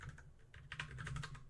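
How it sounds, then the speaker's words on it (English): Fingers type quickly on a computer keyboard, a close, steady run of crisp key clicks with a few louder taps, lasting about a second and a half with no voices. "I type"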